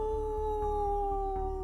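A voice imitates a werewolf howl, a sustained wavering tone held steadily and close for nearly two seconds, with no other sound around it.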